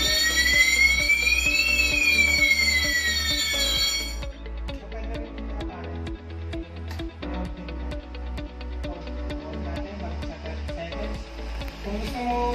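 A gas suppression system alarm sounds during a functional test: first a loud rising and falling electronic siren tone, then a rapid, continuous pulsing buzzer-like alarm that fills the room.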